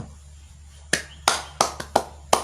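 A few people clap loosely in an informal setting. After a quiet opening there are about six sharp, separate claps at uneven intervals, close and fairly crisp.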